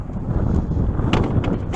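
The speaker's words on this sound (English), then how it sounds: "Of course it's getting super windy out here." Strong wind buffets a microphone outdoors beside a 2017 Kia Sorento LX, a loud, continuous low rumble with gusty surges and no pauses.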